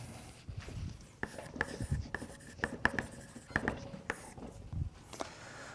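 Chalk or marker strokes scratch across a board during a physics lecture on quantum circuits, coming in short irregular bursts with soft taps, fairly close and moderately quiet.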